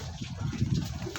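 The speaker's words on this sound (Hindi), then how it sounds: "और ये रहे सारे कबूतर, ये दाना खा रहे हैं" Pigeons eating grain give soft, low, throaty coos in a short, muffled burst, faint and close.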